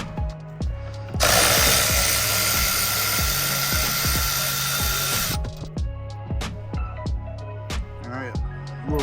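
Power tool spinning off bolts beneath the front bumper of a 2015-23 Ford Mustang, with a long high whirring burst followed by short clicks and zips, and voices talking over it.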